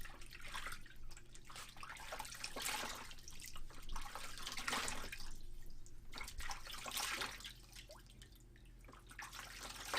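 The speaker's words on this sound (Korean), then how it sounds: "헹궈 보겠습니다." Water splashes and rinses a face after cleansing at a sink, a soft, continuous run of patters and splashes that swells and fades in waves, with no talking.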